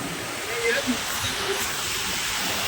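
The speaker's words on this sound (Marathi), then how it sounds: "बंधारा बघा एकदम जबरदस्त वाहत आहे भरून भरून" Loud, steady roar of monsoon floodwater rushing over a full, overflowing river weir, broadband and close, with a voice speaking faintly beneath it.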